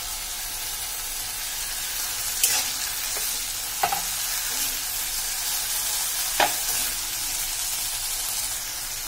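Tomatoes go into a pan of frying bell pepper curry, giving a steady sizzle with a few soft stirring scrapes and clinks, close and even throughout.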